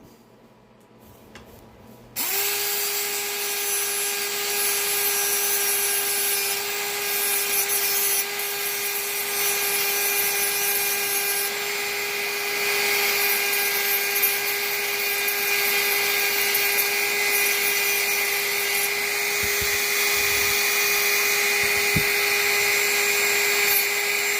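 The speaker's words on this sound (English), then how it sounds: "I might have to drill them out." A high-pitched power drill whines steadily and loudly for over twenty seconds, biting into metal as it drills out a screw on a Royal 45 typewriter, with no talking.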